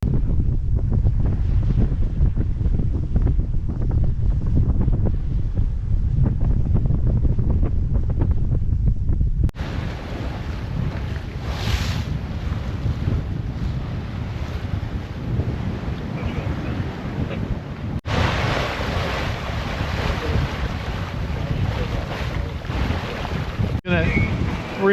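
Strong wind buffeting the microphone while sailing a sailboat solo toward Emerald Bay, with a steady rushing roar of water and waves along the hull throughout, shifting in tone partway through.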